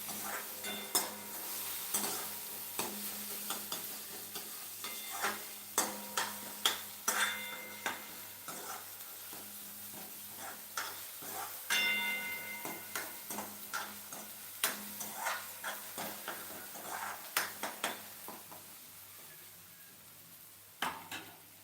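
Tomatoes frying in oil in a pan are stirred steadily for a dal tadka, with a continuous sizzle under frequent clicking and scraping of a spoon against the pan.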